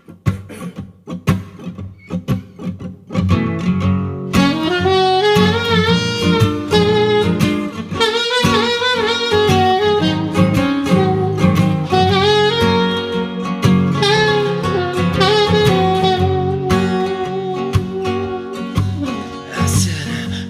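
A song plays at full volume for about twenty seconds: a steady band arrangement with sustained melodic lines over a continuous low groove and no talking.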